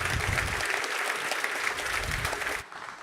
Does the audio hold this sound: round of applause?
yes